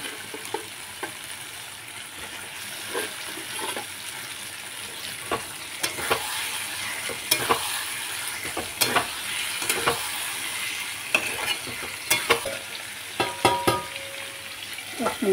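Goat liver fries with spices in a pan, giving a continuous loud sizzle broken by repeated scraping stirs and clinks of the spoon, with no talking.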